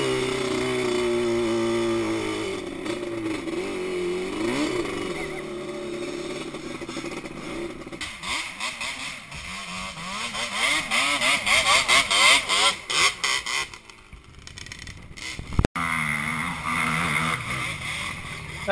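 A Yamaha YFZ ATV revving hard while climbing Florida hills, engine snarling through rising and falling surges, stuttering throttle blips and clattering mid-climb, fairly close, with a brief sharp knock near the end.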